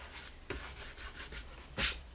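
Marigold paint dry-rubbed onto a tole and decorative painting surface gives soft, quiet brushing rasps in short repeated strokes, ending with one louder, firmer scrub.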